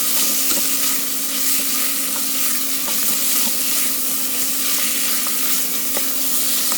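Onions sautéing in a hot pan for a cardoon dish with anchovies and black olives, a loud, dense, continuous sizzle heard up close with faint stirring clicks and no talking.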